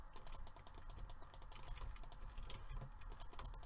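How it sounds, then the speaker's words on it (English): Rapid, dense clicking from a mouse or keyboard during a Minecraft PvP game, a continuous fast patter of close, crisp clicks running throughout, fairly quiet, with no talking. "Oh, I'm spam clicking."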